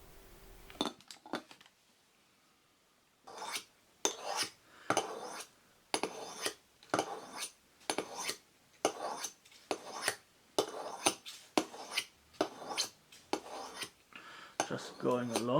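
Knife blade drawn repeatedly across the unglazed underside of a ceramic plate, a series of about a dozen rhythmic gritty scraping strokes after a few brief clinks, close and clear with no talk.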